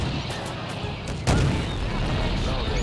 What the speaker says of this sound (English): lots of anti-aircraft